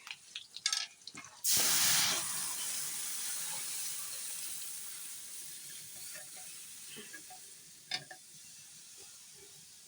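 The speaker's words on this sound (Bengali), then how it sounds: "এবার আমি ডাল দিয়ে দিচ্ছি" Lentils are tipped into hot oil with fried green chillies, a few clatters followed by a sudden loud burst of sizzling that gradually settles into a softer, steady hiss with an occasional tap.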